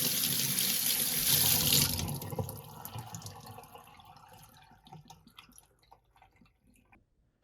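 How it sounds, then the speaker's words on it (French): Running tap water pours loudly over salt-cured egg yolks as they are rinsed, strongest in the first two seconds, then easing to a softer trickle with scattered drips. "Lavez les jaunes d'œufs à l'eau pour enlever le surplus de sel."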